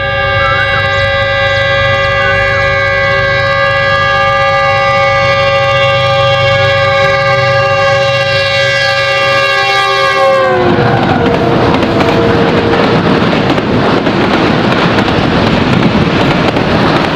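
Karakoram Express train passing at high speed, its loud sustained multi-tone horn blaring for about ten seconds before giving way to the rushing roar of the wagons racing by up close.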